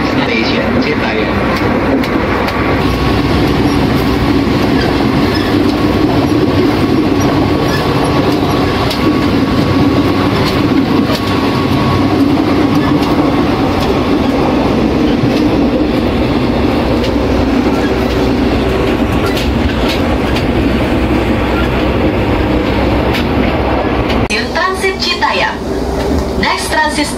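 A commuter train heading toward Citayam station rumbles steadily along the rails in a loud, continuous roar with faint wheel clatter, heard from inside the carriage.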